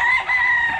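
A gamefowl bull stag rooster on a gamefarm crows once, close and loud, a sustained harsh call lasting under a second with no talk.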